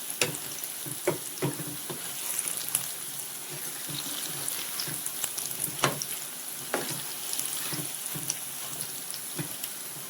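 Bajji fritters frying in hot oil, a steady close crackling sizzle with scattered sharper pops and bubbling throughout, no voices.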